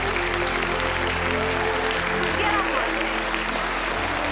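Applause from an audience at a book presentation, dense and sustained throughout with no break, with a voice over the clapping.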